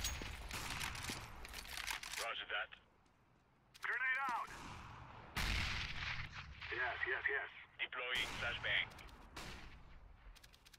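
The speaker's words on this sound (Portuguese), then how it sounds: "Neo cravando a mira lá na passagem da B2, encontrou o jogador, errou o tiro" Gunfire rings out during a Counter-Strike match between NiP and Virtus.Pro at DreamHack Winter 2014, sharp shots and bursts alongside game sounds, with an excited commentator talking over them.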